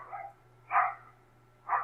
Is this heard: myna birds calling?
no